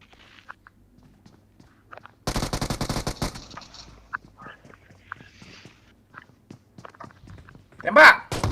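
Automatic gunfire in PUBG Mobile during a live Indonesian match, a dense burst of rapid shots for about two seconds followed by scattered shots and footsteps, with a loud sharp report near the end.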